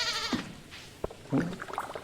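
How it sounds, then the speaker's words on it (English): A goat bleats in the farming game Stardew Valley, a short wavering bleat at the start followed by softer rustles and faint clicks, all fairly quiet and with no talk. "Even the goat's getting excited."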